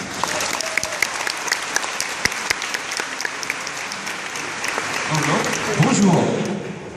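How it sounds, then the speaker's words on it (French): Audience applause at a convention talk, a steady crowd clapping with sharp individual claps standing out, swelling slightly toward the end as a voice speaks over it. "On peut l'applaudir quand même."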